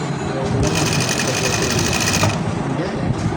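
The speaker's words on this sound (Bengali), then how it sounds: "এই দেখেন আমি এটা সেলাই করব" Sewing machine stitching the bottom hem border of gabardine trousers, a close, loud, steady whir running for about two seconds between stretches of a tailor talking.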